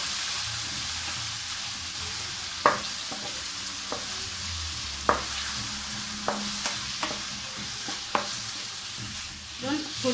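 Onion and beef fry in a pan with a continuous bright sizzle, punctuated by sharp taps and scrapes of a utensil stirring every second or two, close and steady.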